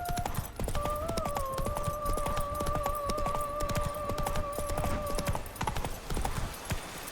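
Horse Roach galloping in The Witcher 3 video game, a steady rapid clip-clop of hooves running throughout, with a long sustained tonal game sound over the first several seconds and no talk.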